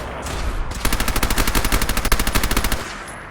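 A turret in Fallout 4 fires a rapid, evenly spaced burst of machine-gun rounds, loud and sustained for about two seconds before cutting off.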